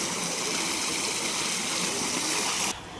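Water gushes forcefully and steadily from a farm well near Vennangupattu on the ECR, a dense, loud rushing roar that holds constant before dropping abruptly near the end.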